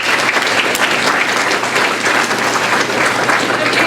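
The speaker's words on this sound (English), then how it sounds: "Sheldon a round of applause." Steady, dense applause from an evening audience at a college science poetry contest, many hands clapping loudly and evenly throughout with no break.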